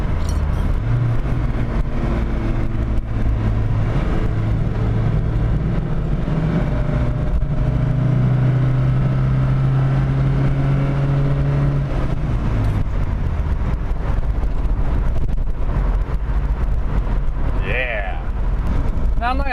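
A Volvo engine runs steadily while driving, a constant low drone with rising and falling hum under road noise, as someone talks over it.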